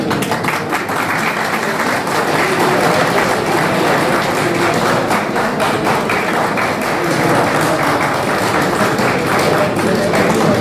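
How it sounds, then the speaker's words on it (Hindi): An audience applauds at a civil defence volunteer training event in Kanpur: dense, steady clapping that stays loud and continuous throughout, with no clear pauses. "ताली बजाइए आप लोग।"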